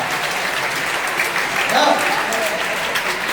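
Applause from the audience at a church youth group's evening summer retreat service, steady and dense throughout, with a voice calling out partway through.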